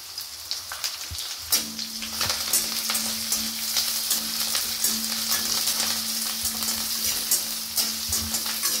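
Mushrooms sauté with onion, green chillies, mint and coriander in a pan, giving a continuous moderate sizzle with soft stirring clatter and a few sharper scrapes.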